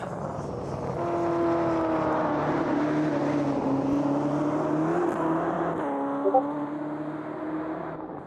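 GTE race cars lapping in qualifying at Kyalami, engines droning steadily at close to mid distance with rising and falling pitch as they pass, continuous throughout with no talk.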